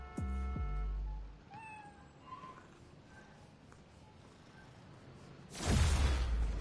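A cat meows in the Spider-Man: Miles Morales video game, a few short rising meows over quiet game ambience, followed by a sudden loud, broad burst near the end.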